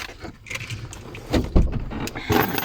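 Car keys jangle in several brief metallic bursts, close by, with soft handling thumps in between.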